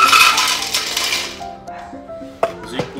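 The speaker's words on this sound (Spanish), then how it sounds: "Puso un tazo de hielo en la licuadora." Ice cubes clatter into a blender jar, a rattling burst that fades into a few sharp clinks.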